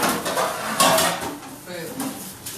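A standard metal muffin tin is pulled from a kitchen cabinet with rattling clanks and a scrape of metal, while a person talks over part of it.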